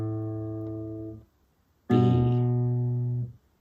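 Electric or acoustic guitar picks out a slow beginner melody, a single sustained note fading out, a pause, then another plucked note ringing for over a second, close and clear with no voices.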